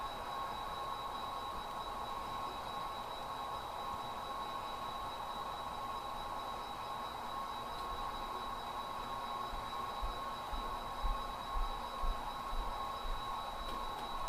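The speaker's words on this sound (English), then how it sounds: "This is a manifest train." A model manifest train rolls steadily across a layout's turnouts and crossovers, giving a continuous rumble with a faint steady hum and some louder clattering toward the end, with no voices.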